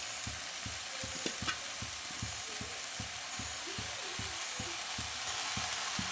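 About a kilo of cut mushrooms being stir-fried in a hot pan for mushroom gravy, with steady sizzling and a regular scraping rhythm of the spatula roughly twice a second, close and continuous.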